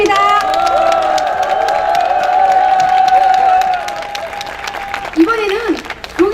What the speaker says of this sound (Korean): 힘찬 응원의 박수 부탁드립니다